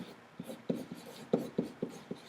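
Chalk or marker writing out a chemical name on a classroom board, a string of short tapping and scratching strokes in an uneven rhythm, close and fairly soft, with no talking.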